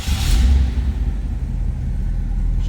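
A 1983 Oldsmobile Cutlass Hurst/Olds 15th Anniversary V8 with a four-barrel carburetor cranks and catches with a loud low burst, then settles into a steady, deep rumbling idle that runs slightly high, heard close up with no talking.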